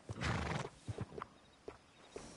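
A horse in Red Dead Redemption 2 gives a loud, close neigh at the start, followed by softer snorts and a few hoof clops spaced out over the rest of the short stretch.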